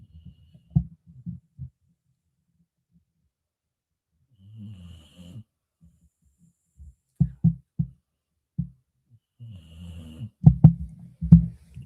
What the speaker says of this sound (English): This is Junebug snoring